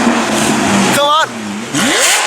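A Lamborghini Aventador in Need for Speed revs up, with the engine pitch climbing, dropping, then rising again. The engine is loud and close, with a voice talking alongside it.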